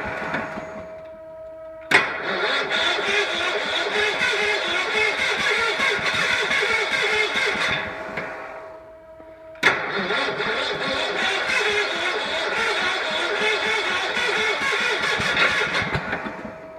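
An engine that tends to choke cranks and runs roughly for several seconds, dies, then catches again with an abrupt loud start and keeps sputtering close by.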